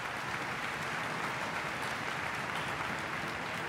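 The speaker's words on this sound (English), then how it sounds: "If you would please give them a round of applause for me." A crowd at a high school music festival concert applauds steadily and evenly, a dense wash of clapping from a large audience that holds at the same level throughout.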